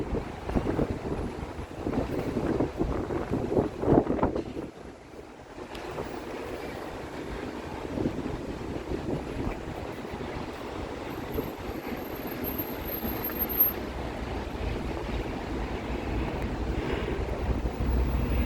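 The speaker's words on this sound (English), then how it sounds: "Wind is definitely coming out of the west." A strong west wind blows at the start of monsoon season, a steady roaring rush buffeting the microphone for the whole stretch, with a brief lull partway through.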